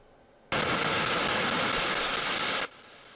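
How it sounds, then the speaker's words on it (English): Nuclear rocket engines burning on a large spacecraft in Kerbal Space Program, a loud steady broadband roar that starts abruptly, holds evenly for about two seconds, then cuts off sharply. "here I am extending out my orbit with the nuclear engines"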